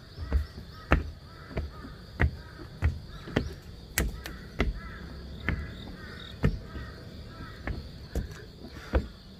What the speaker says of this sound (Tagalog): Daming uwak sa Korea guys. Nagpasyudad pa yung mga uwak.